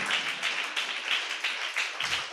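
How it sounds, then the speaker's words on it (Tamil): A church congregation clapping hands in a steady rhythmic beat, about three claps per second, many hands together and fairly close, continuing evenly throughout. "நல்ல கைத்தட்டி"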